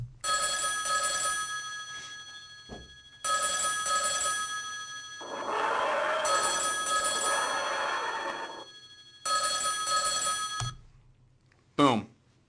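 A telephone ring sound cue plays through a show-control system in repeated bursts of electronic trilling with short gaps, while a person talks over part of it, ending in a brief swooshing effect.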